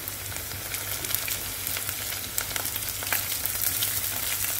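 Mint leaves for lamb lung gravy frying in a pan, giving a dense, continuous sizzle close by, broken by faint stirring clicks, with no voices.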